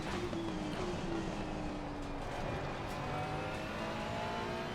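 Race car engine in Assetto Corsa Competizione at Oulton Park, a loud, steady engine drone with gear-shifting pitch sweeps that rise and fall continuously throughout.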